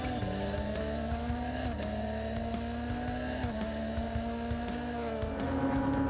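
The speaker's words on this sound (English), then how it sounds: "At the front was Enam Ahmed, and it was a busy start away from the lights" Formula 3 race cars roar away from the start at Silverstone, several engines screaming together at high revs with repeated gear-change dips in pitch, loud, dense and continuous with no talk.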